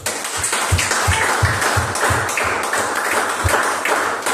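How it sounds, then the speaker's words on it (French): A church congregation claps and acclaims together in a steady, rhythmic beat of loud, close hand claps, with a dense wash of cheering voices behind it through the whole stretch. "Nous allons donner une grande acclamation"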